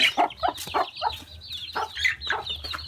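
Repeated chicken clucks in quick bursts, fairly close, with a low steady hum underneath and no talking.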